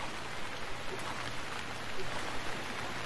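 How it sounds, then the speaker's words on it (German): Steady rain falls as a dense, even hiss in the survival video game Stranded Deep, soft and continuous with faint patter throughout and no voices. "jetzt fängt es auch noch an zu regnen"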